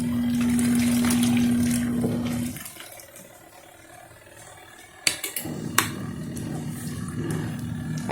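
A Zokop portable washing machine runs with water, giving a steady loud motor hum that drops off partway, then resumes as a quieter churning rumble marked by a few sharp knocks.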